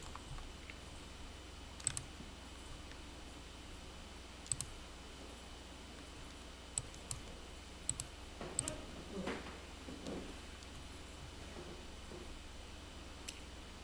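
Sparse computer mouse clicks while working in Korean accounting software, light sharp ticks scattered irregularly over a quiet room hum, with no voice.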